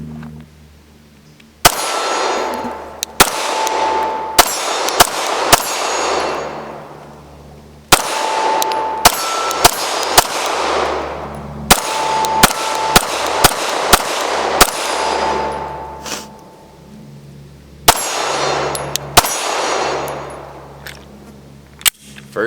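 Lantac Razorback Glock 17 pistol firing 115 grain rounds, sharp single shots in irregular bursts with ringing metallic decays, loud and close, no talk.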